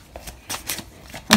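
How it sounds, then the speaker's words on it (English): Tarot cards being shuffled close to the mic, a run of quick papery riffling bursts with a sharper snap of cards at the end. "I'm shuffling on camera today, so loud, just turn it down."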